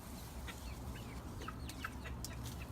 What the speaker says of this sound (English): see what these chickens are up to.